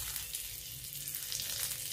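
Peppercorns, cloves and cinnamon frying in hot oil for a paneer and kabuli chickpea dish, a steady close sizzle with a soft bubbling undertone, no talk.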